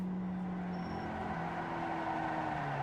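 A Mazda Cup race car at Laguna Seca drones steadily from inside the cabin as the driver eases off the gas, the engine tone sagging slightly, with no talk.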